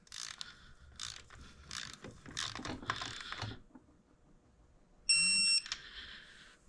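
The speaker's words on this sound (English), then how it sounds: "Tighten the nut." Torque wrench set to 30 newton meters tightening a nut on a fishing reel, a close series of quick ratcheting clicks in bursts, then quiet, then a brief sharp mechanical click and whir at the end.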